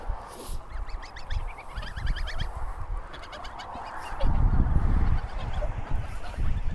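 Geese honk repeatedly at close range while feeding on sugar beet, a flock of calls overlapping with steady munching and rustling underneath, growing louder toward the end.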